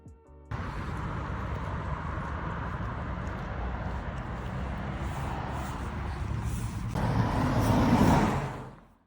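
Road traffic noise from cars, a steady close rumble of passing vehicles that swells louder near the end as a vehicle goes by, then fades.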